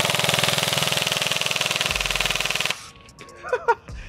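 A G&G SRF 16 airsoft AEG rifle fires a loud, close full-auto burst of rapid, evenly spaced shots for nearly three seconds, then stops abruptly, leaving faint clicks and small handling noises.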